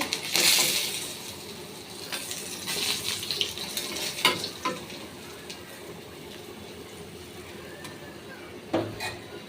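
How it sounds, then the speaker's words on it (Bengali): Surma fish sizzles in a pan of hot oil with a soft, uneven crackle, broken by sharp clinks and scrapes of a utensil against the pan, and no one talks. "আমার মাছ ভাজি হয়ে গেছে, তুলে নিচ্ছি।"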